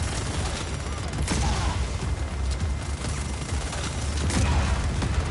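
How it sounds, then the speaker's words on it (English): Rapid gunfire in a GTA video game, a dense continuous barrage of shots and crashes that stays loud and close throughout, with no clear speech over it. "Stop shooting me."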